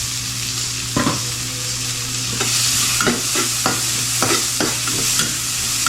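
Onions frying in a pan give a steady loud sizzle, broken by several sharp stirring scrapes and clacks of a utensil across the pan, close and with no voices.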